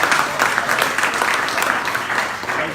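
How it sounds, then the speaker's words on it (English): Steady applause from an audience at a startup pitch event, dense and continuous clapping throughout, fairly loud with no clear voices on top. "Round of applause."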